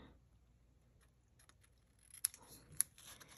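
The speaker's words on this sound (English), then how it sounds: "I grab my ribbon scissors, and I'm going to, let's say I'm going to cut this one." Ribbon scissors snip through paper in a few quick, faint crisp cuts after a quiet pause, with small ticking clicks between the strokes.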